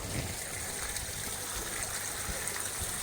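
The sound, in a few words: Tempest pump running, water flowing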